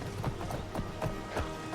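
Horse hooves clip-clop steadily in Skyrim, an even, close galloping beat that stays loud and continuous with no voices over it.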